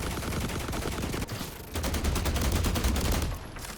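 Enemies in The Last Caretaker fire sustained automatic gunfire, rapid and loud, with a short dip near the middle before the bursts resume densely and then taper off; no one speaks.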